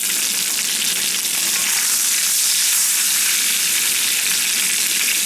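Green beans stir-frying in a cast iron wok, with a loud and constant close-up hiss and crackle across the whole stretch, no talking.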